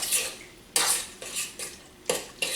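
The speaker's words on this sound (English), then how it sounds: "I'm just stirring this up, making sure it's all nice and combined" Sweet potato breakfast cookie batter being stirred in a bowl, with a few distinct scraping strokes and clinks of the spoon against the bowl, close and clear and otherwise quiet.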